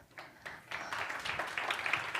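An audience at a Huawei digital talent summit breaks into applause for a speaker on stage, starting with a few scattered claps and swelling into steady, moderately distant clapping.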